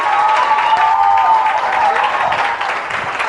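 A crowd applauds steadily, with a faint whistle-like tone and murmuring voices mixed into the clapping.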